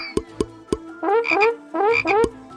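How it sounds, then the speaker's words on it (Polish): Frogs croak loudly and close by in a cartoon children's Bible story about the plague of frogs in Egypt, a few short sharp croaks followed by two longer rattling calls, with no voices. "Następnie napełnił domy Egipcjan mnóstwem żab."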